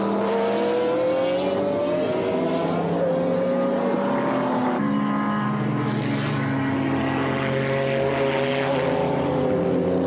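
1995 BPR Global GT race at Paul Ricard with McLaren and Porsche GT cars, engines screaming past in rising and falling whines that overlap as several cars pass, and a commentator talking over the noise.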